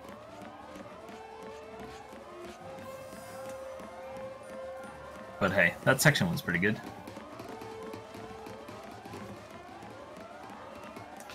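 Sirens wail in the Final Fantasy XIII video game, rising and falling tones looping under someone talking, with a brief louder burst of noise midway.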